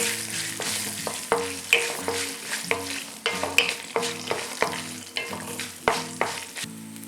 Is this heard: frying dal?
yes